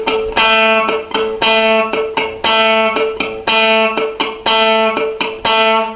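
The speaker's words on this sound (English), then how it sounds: "use the plectrum to pluck down on the note, and then down, and then up on the second click" Guitar notes are plucked with a plectrum in a repeating down, then down-up pattern. The short, choppy strokes are muted off quickly, and the tight rhythm repeats steadily and loudly with no talking.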